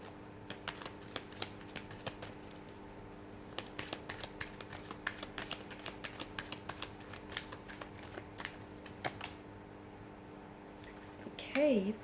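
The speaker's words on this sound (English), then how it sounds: "So we'll give the cards a shuffle" Tarot cards being shuffled close up, a run of quick crisp riffles and soft taps spread over several seconds in an otherwise quiet room.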